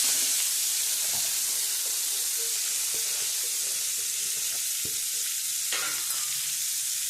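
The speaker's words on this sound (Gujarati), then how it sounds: "હવે આપણે આ વઘારી નાખશું." Spices and asafoetida sizzle in hot oil with a steady, bright crackling hiss and a few soft stirring knocks; no one speaks.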